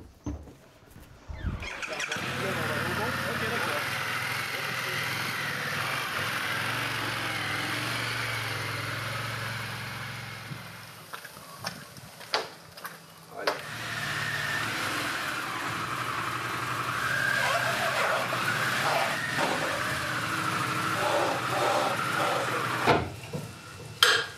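A Panamerica motorcycle engine runs on a test bench in a technical building, a steady mechanical drone that breaks off midway with a few clanks and knocks, then resumes and holds on through the rest.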